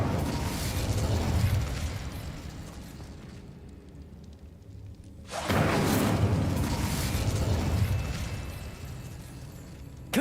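A fire spell is cast in Hogwarts Legacy, a loud sustained roaring burst that swells, fades into a low rumble, then surges again with a second long fiery rush.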